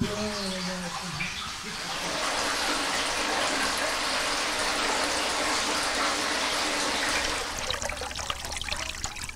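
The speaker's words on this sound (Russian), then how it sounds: "Булькает." Water rushing and gurgling through pipes and a tap once the household supply is switched on, a steady loud broadband hiss that swells, holds for several seconds, then breaks into spluttering, with a brief voice at the start.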